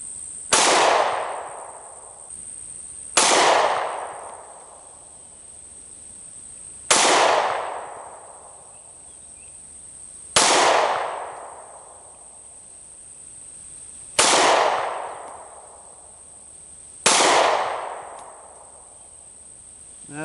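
Six loud, separate shots from a Glock 43X pistol fired at a target outdoors, spaced about three seconds apart, each a sharp crack with a long fading echo, over a steady high insect-like hum.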